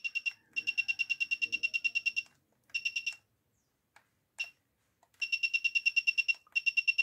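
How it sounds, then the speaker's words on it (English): An electronic buzzer on a DIY infrared remote-control receiver beeps in fast pulsing trains, starting and stopping in several separate bursts of rapid, piercing chirps with short gaps between them. "pressing the button, any button of the remote, it will sound the buzzer and turns on the LED."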